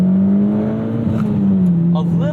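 A Mitsubishi Lancer Evo X GSR engine, modified, drones loudly at steady revs from inside the car as it's floored from about 4,500 RPM, with a faint rising whine and some background noise near the end.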